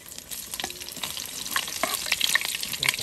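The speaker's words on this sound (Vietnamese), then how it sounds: "giờ em cho tép tỏi vô" Garlic cloves dropped into hot oil in a pan, crackling and spitting with scattered pops and clicks that build into a busier sizzle, close by.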